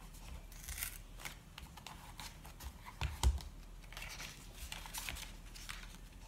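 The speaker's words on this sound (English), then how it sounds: "Now I'm going to tear off" Paper is torn off the outer piece of a notepad, giving quiet, brief rustling and ripping with one sharper crackle near the middle against faint background noise.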